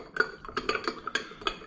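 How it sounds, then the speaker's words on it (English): A spoon stirring sugar into a cup of McDonald's coffee, giving light, quick clinks against the cup in an uneven rhythm, close and soft. "Okay, and then we'll stir it up."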